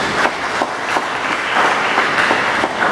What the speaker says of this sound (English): Let us applaud for them.